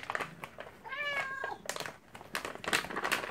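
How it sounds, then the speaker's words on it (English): A house cat gives one clear, rising-then-falling meow amid crinkling packaging rustle during a dog-toy box unboxing, fairly close and moderately loud. "Oh my gosh, the cat wants one."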